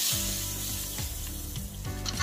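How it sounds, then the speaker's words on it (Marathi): Hot cumin and mustard seed tempering with curry leaves poured over raw mango chutney, giving a loud, steady sizzle and crackle throughout, close up, with no talking. "मी जिरे मोहरीची फोडणी दिलेली आहे, कढीपत्ता थोडा घातलेला आहे। हे पहा, फोडणी केलेली आहे, आपण ती ओतूया"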